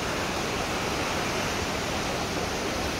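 Waterfall in Høyanger, Norway, near the city hall in the town centre: a steady, loud broadband roar of falling water fills the whole stretch without pause and with no voices.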